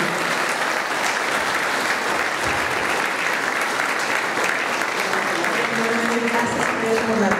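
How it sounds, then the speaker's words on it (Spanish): Sustained audience applause at a church gathering in Puebla, a steady, full wash of many hands clapping throughout with no break, a few faint voices mixed in underneath. "Denle un fuerte aplauso."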